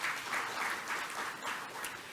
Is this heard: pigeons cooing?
no